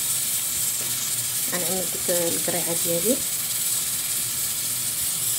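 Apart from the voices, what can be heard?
steam hissing from couscous steamer pot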